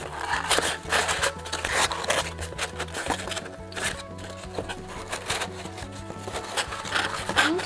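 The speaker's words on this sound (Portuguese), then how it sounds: "pra gente poder conseguir encaixar um no outro" Cardboard pieces are slotted together to build a mannequin head, giving close scraping and rubbing with repeated sharp rustles and taps over a faint steady background tone.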